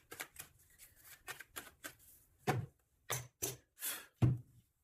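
Oracle cards being shuffled and cut, a run of crisp riffling bursts that grow into several louder separate flicks and slaps toward the end, close and alone with no voice.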